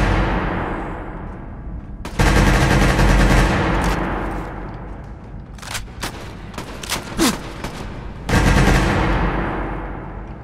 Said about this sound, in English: Let me take this machine gun out for a spin